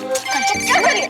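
A phone rings with an incoming call during a tense household argument, its repeating electronic tone running steadily through the clip beneath overlapping voices.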